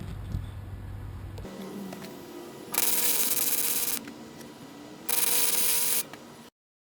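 Steel tubing for a railing being welded, two bursts of loud crackling hiss each lasting about a second, separated by a quieter stretch of low hum, then sudden silence.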